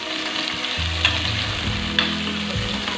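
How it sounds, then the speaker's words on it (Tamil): Large onion and two green chillies sautéing in hot oil for sambar, a loud close sizzle with stirring scrapes and a couple of sharp spatula clicks against the pan. "இப்போ எண்ணெய் காஞ்சதும் இந்த பெரிய வெங்காயத்தை போட்டு வதக்கிடும்."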